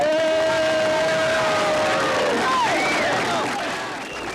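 A crowd of protesters at Love Canal as environmental officials are led through to waiting police cars: a steady, dense crowd roar with shrill whistles and shouts, easing off toward the end.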